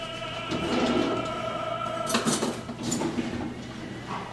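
Cheese filling for pizza rustica is mixed in a bowl, with clinks and scrapes of a utensil against the dish coming in irregular bursts at moderate volume.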